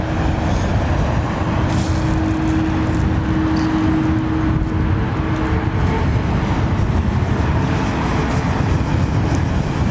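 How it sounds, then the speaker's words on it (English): An Airbus A340 airliner passes overhead at London Heathrow Airport, a loud, steady jet roar filling the whole clip with no break, close and dominant with no voices over it. "A340 overhead"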